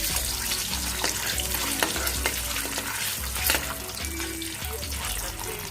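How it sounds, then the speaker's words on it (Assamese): Eggs sizzling and crackling in a hot pan with spice powder, a dense continuous fry with scraping stirs and clinks throughout. "কণীকেইটা ভাজিম।"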